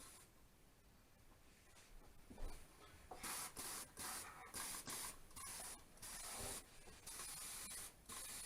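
An aerosol can sprays white primer onto L39 RC plane kit parts in a series of hissing bursts, each about half a second to a second long, close and fairly loud after quieter handling sounds.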